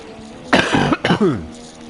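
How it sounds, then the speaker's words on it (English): A single close, harsh cough with a couple of quick bursts and a throat-clearing rasp, loud and alone. "Sorry about the cough."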